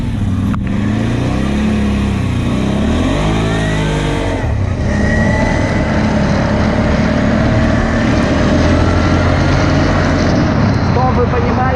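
A CFMOTO X8 EFI quad bike engine is pushed to full throttle, roaring loud and close with rising, sweeping revs that settle into a steady high drone throughout.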